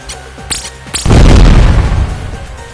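Fireworks flares detonate in the video game Fantavision, with two quick rising whistles followed by a loud, booming burst that rumbles and fades over a couple of seconds.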